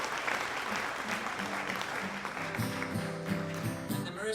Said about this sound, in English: Can we have a round of applause to Nate